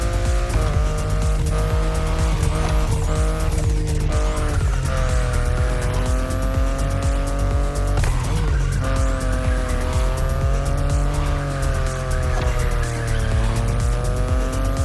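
A BMW i8 sports car in The Crew Motorfest racing game drives hard with a loud, steady engine drone that rises and falls through gear changes, while tires squeal and skid in long bursts throughout, with no talk.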